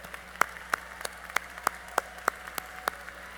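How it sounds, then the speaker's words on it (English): Sparse, slow individual claps ring out at a college commencement ceremony, honoring the singers and their retiring director, about ten distinct hand claps at a steady pace in a quiet hall. "A round of applause for the Singers and Chuck."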